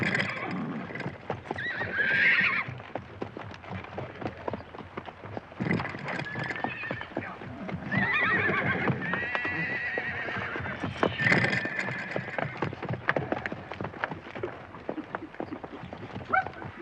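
Several horses neigh and whinny repeatedly over a steady clatter of hooves clip-clopping, a busy herd scene sounding fairly close with continuous movement throughout.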